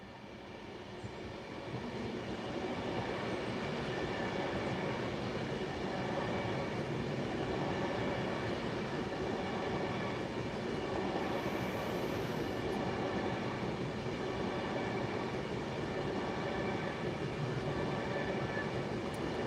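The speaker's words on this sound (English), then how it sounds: "God, this train's going slow, this Pendolino." A Pendolino passenger train creeping along at very low speed, a steady close rumble of wheels and carriages holding for the whole stretch with faint squeals and no talk.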